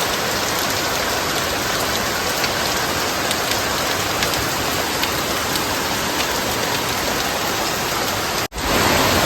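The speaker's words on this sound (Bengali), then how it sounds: "কত বৃষ্টি হচ্ছে বসে বসে বৃষ্টি" Heavy rain pours down as a steady, loud, dense hiss of drops hitting surfaces, unbroken for several seconds apart from a brief dip near the end, with no one speaking.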